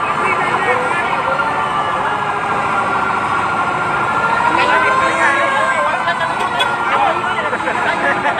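A fire truck siren wails with rising and falling tones at a fire in Cebu City, amid loud street noise and engine rumble, while people's voices murmur nearby.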